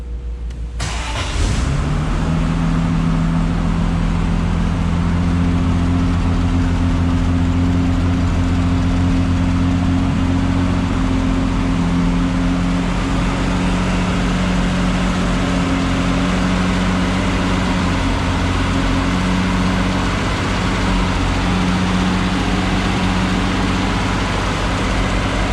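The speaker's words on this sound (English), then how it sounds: "we're gonna start the car from standing outside" A 1974 Triumph TR6 engine cranks and fires on a cold start, then settles into a loud, steady idle heard up close from outside the car, with a faint hum running throughout.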